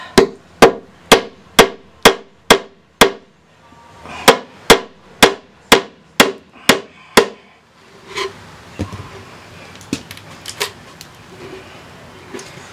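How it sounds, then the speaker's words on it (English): A series of sharp metallic hammer blows in steady rhythm, two bursts of about seven strikes each, followed by softer scattered knocks and rustling. "Got the old trusty ball peen hammer out."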